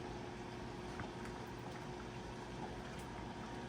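Red chicken curry with fish sauce simmering in a pot, a faint, steady bubbling hiss that stays constant with no voices.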